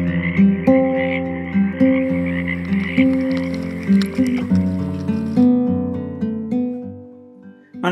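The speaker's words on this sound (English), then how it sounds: "it's difficult to miss the chorus of Pacific tree frogs if you live in a natural area on the west coast of North America" Chorus of Pacific tree frogs calling in a west coast North American wetland: loud, close, repeated croaking pulses that overlap in a dense rhythmic chorus and fade toward the end.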